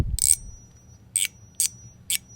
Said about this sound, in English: That's a bell ringing.